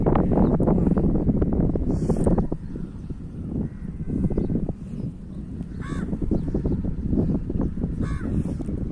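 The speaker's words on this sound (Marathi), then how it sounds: "या कावळे दादा भेटायला आलात का मला?" Crows in a village in the Sahyadri hills give a few short caws over strong wind buffeting the microphone, the calls moderately distant and spaced apart.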